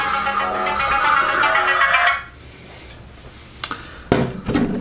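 A phone ringtone chimes steadily and fairly loud for about two seconds, then cuts off, leaving quiet room noise with a few brief clicks and knocks afterward.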